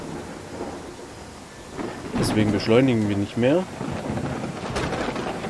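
Rain and thunder in the video game Land of the Vikings keep up a steady background wash while someone talks briefly over it in the middle.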